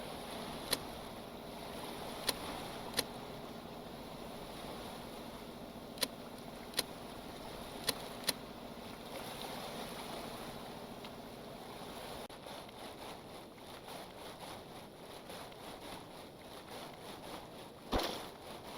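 A boat fitted with filled ballast tanks cuts through rough ocean waves in the game Stormworks, a steady low rushing wash with scattered sharp clicks and a brief louder splash near the end.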